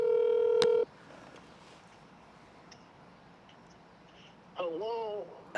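A telephone dials out for a call: a burst of steady keypad tones at the start, then a quiet line, then a warbling ring tone near the end, with a faint click after it.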